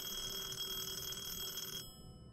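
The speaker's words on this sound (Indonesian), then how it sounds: "Apa lagi yang mau telepon tengah malam begini?" A telephone rings inside the horror video game Detention, a steady electronic trill under a low hum that cuts off sharply near the end, faint and without any talk over it.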